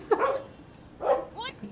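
A dog gives two or three sharp, close barks and yips with short pauses between them.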